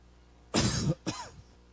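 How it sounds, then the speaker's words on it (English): A close, fairly quiet cough from a preacher during a sermon, followed by a shorter second cough, heard alone against faint background hum. "Why is it, by the way, the cough comes when you're sermonating, right?"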